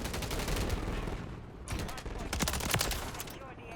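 Rapid bursts of MTZ 556 assault rifle fire in the video game Modern Warfare 3, loud and close, with sharp repeated cracks over a busy game mix and some speech underneath.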